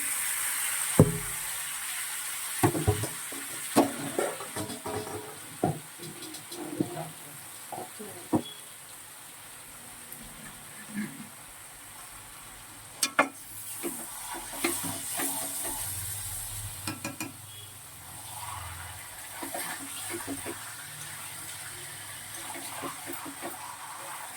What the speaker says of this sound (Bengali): আগে থেকে চিকেনটা দই দিয়ে মাখিয়ে রেখেছিলাম সেটাই দিয়ে দিচ্ছি